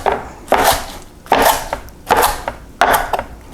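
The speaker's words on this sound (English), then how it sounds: "So first, cutting in about 1-inch segments along here, and then crosswise." A knife chops through raw kale on a cutting board into one-inch segments, giving four crisp, evenly spaced cuts, each a sharp rustling crunch, close up.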